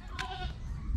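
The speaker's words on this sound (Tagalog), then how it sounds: "Tingnan nyo po yung mga maliit natin na kambing, oh." Small goats on a family farm give a short, close bleat that rises then wavers, with low rustling and background noise around it.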